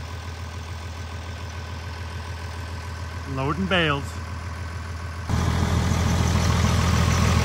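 A two-wheel drive tractor runs in deep snow with a steady low engine hum throughout, swelling louder in the last couple of seconds, while someone speaks briefly midway.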